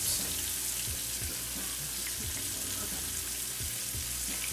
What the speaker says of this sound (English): right now in this tiny little skillet, I am trying to get my cube steak ready